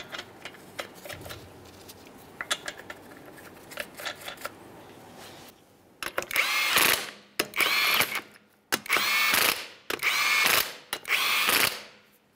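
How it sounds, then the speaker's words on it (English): Lug nuts on the front right wheel of a 2013-2020 Ford Fusion 2.0L snugged with a power tool: about five loud, close bursts of whirring, ratcheting tool noise, each roughly a second long, after a quiet stretch of faint clicks. "start on all five of your lug nuts, snug them up"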